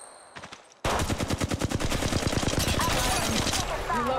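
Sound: gunfire in the video game Apex Legends Mobile

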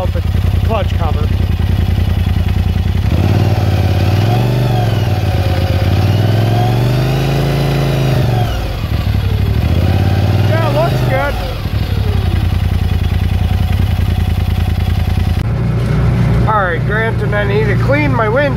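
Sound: off-road 6x6 vehicle engine running without clutch cover

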